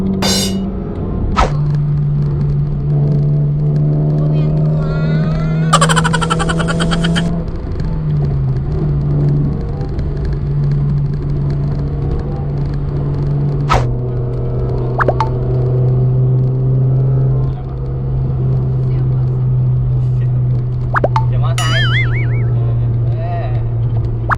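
Steady engine drone of a car driven fast in a low third gear, a low humming tone shifting pitch slightly as speed changes, with occasional clicks and light knocks inside the cabin and a voice briefly speaking.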